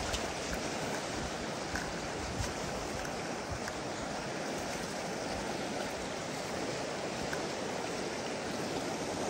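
Fast-moving Alaskan river rushing steadily, a dense, continuous broadband roar of flowing water heard close by with no voices.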